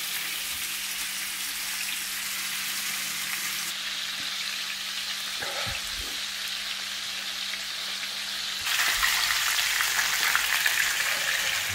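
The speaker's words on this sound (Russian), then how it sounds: "Просто жарим. Обжариваем немножко его." Steady, crackling sizzle of eel frying in hot oil in a pan, close and continuous, growing louder and brighter near the end with a faint clink.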